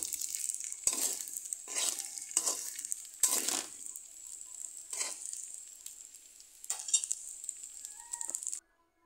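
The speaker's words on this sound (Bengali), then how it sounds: "ডিমের সাথে পাস্তা সবজিগুলো ভালো করে মিশিয়ে নিতে হবে।" Pasta, vegetables and egg sizzle loudly in a frying pan, broken by repeated stirring scrapes in bursts, then the sound cuts off abruptly near the end with no voices.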